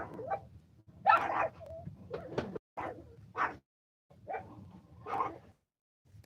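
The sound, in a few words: dog barking, part Great Dane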